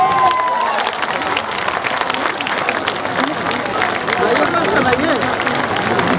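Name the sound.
audience applause at political party event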